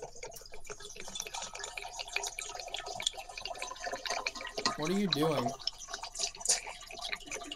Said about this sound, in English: I'm just pouring a container of water into another container of water.